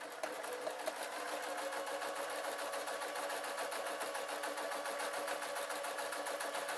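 A sewing machine stitches fabric for a knitting needle roll, its motor giving a steady, continuous whirring hum with a fast mechanical rhythm that runs close and even from start to finish.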